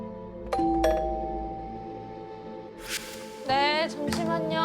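A doorbell rings over and over, two clear chimes followed by rapid frantic bursts, with some rustling and a short voice in between, moderately close indoors.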